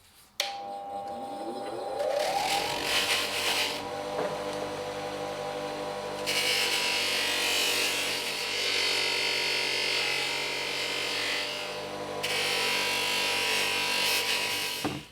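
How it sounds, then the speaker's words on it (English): A motorcycle starter motor from a GS rebuild gets cleaned and polished with a rotary power tool, a steady close whirring grind that swells louder in stretches, with no speech. "here I am cleaning the starter motor now"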